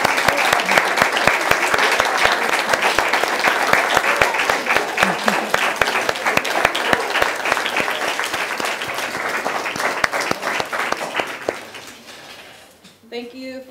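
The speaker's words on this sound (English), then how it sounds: "I'd like for us to recognize and applaud those members of the Moore family who are here with us this evening" An audience at a writer's residency reading applauds in sustained, dense clapping that holds steady for several seconds, then thins out and fades as a few scattered claps remain.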